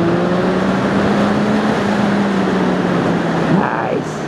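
A Triumph Speed Triple ABS motorcycle engine in second gear pulls hard with a rising steady roar, close and loud under heavy wind rush, the pitch climbing toward the end.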